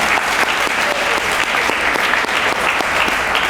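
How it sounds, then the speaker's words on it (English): Loud, dense audience applause for the Colsons at the 70th annual SBA award event, close and steady throughout with sharp individual claps standing out. "Let's give one more round of applause for the Colsons"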